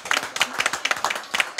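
A church congregation claps in quick, uneven bursts during worship, with sharp, close hand claps spread across a short stretch and no clear speech.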